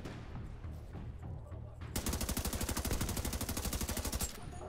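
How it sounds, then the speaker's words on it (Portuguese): Rifle fire in the video game The Division 2 erupts after a quieter stretch into a rapid, loud automatic burst of evenly spaced shots lasting a couple of seconds. "tomou um monte de tiro de fuzil"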